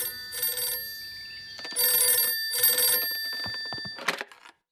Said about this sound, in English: call my mum